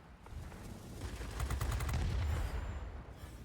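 Rapid bursts of aircraft gunfire from a fighter plane in World of Warplanes, a rattling stream of shots swelling in the middle and fading out, fairly loud over a low engine rumble.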